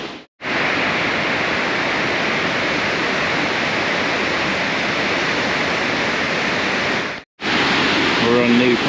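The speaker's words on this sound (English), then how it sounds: "we're seeing new parts of the river, and this part is absolutely spectacular. It goes down in a series of cascades, hundreds of meters down." River cascades rushing downhill along a trekking path in Langtang, Nepal: a loud, steady broadband roar of whitewater, close and continuous, briefly cut out twice.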